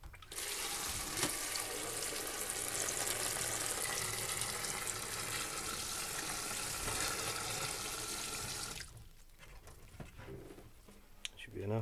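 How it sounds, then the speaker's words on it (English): Water pours steadily from a tap into an ordinary plastic tile adhesive bucket, a constant close hissing splash for about nine seconds before the flow stops, leaving faint clatter and quiet room noise. "fill it up with some water."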